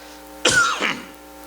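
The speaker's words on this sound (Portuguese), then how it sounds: "Desculpe estar só tossindo" A single short cough from a preacher during a sermon, close and fairly sharp, followed by a softer second burst against a faint steady hum.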